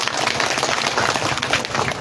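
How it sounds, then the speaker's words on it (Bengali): An audience claps together at a madrasa prize-giving ceremony, a steady dense patter of many hands close by, with no speech over it. "সকলে হাততালি দাও।"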